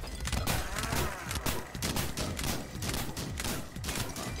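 Rapid, continuous gunfire from a boss in the game Billy's Nightmare, a dense crackling volley of bullet shots repeating without pause at close range.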